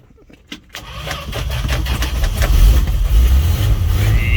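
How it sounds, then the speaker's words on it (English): An old Dodge D100 truck that has sat unused cranks and fires up in the rain, catching after a brief start and settling into a loud, rough, steady engine run close by. "get a stubborn old truck to start when it's been sitting for a while"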